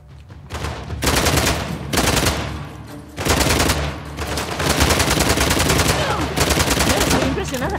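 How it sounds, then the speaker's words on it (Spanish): Gunfire in the video game Uncharted: The Lost Legacy: sustained bursts of rapid automatic fire in several loud, close volleys with short lulls, joined by scattered single shots. "¿A quién estáis disparando?"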